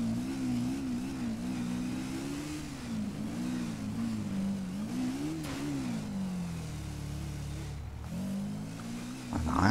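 A motorcycle engine in GTA 5 revs and drones throughout, its pitch rising and falling in repeated waves as the throttle opens and eases, loud and close with no talk over it.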